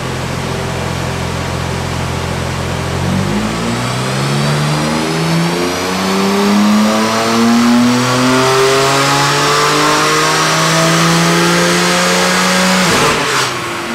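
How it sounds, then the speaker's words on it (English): A BMW F80 M3 with a Stage 2 ECU tune and downpipe revs on a dyno, its engine climbing steadily through the gears in a loud, continuous pull before a sharp cut near the end. "So we've also flashed the Stage 2 file into the car, and now we're going to run it on the dyno again and see how we get on."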